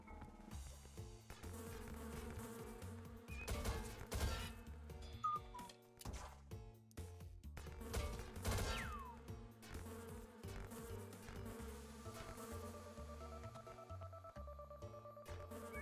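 In a trippy turn-based roguelike video game, wasps drone in a sustained buzzing hum mixed with beeping, tone-like game effects and ticking, continuous and fairly loud throughout.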